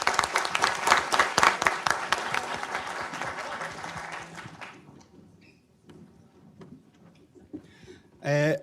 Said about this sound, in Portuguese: Uma salva de palmas para ela, pessoal.